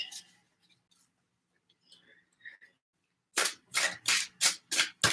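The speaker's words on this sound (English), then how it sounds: "I'm just gonna shuffle some cards from a few decks" Tarot cards from several decks being shuffled, first a few faint quiet rustles, then a run of six crisp, loud riffling bursts in quick rhythm close to the ear.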